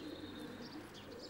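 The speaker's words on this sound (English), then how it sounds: "It's a nice looking pigeon, Jake." Pure Wildermesh racing pigeon cooing softly, a low murmuring coo blending with faint bird chirps over a steady loft background.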